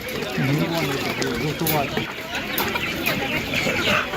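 Czech Dominant laying hens cluck repeatedly at a busy animal market, their rising and falling calls mixed with the chatter of nearby people talking over them.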